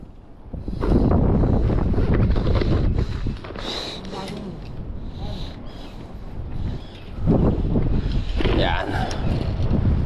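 Strong wind buffeting the microphone on a boat out at deep sea, loud rumbling gusts that rise and ease, with brief talk in between.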